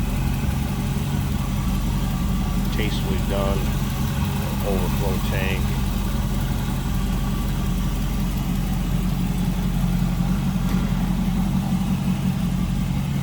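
A 1930 Ford Model A Roadster with an Edelbrock carburetor and electric choke idles steadily and close by, a low even rumble running throughout while someone talks over it.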